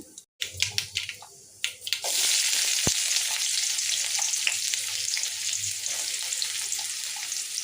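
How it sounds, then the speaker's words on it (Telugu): Chopped onions drop into hot oil with crackling tempering spices for a bitter gourd fry. A few close clinks and taps come first, then a sudden loud sizzle that carries on steadily. "ఇందులోకి మనం కట్ చేసి పెట్టుకున్న ఆనియన్స్ వేయాలండి"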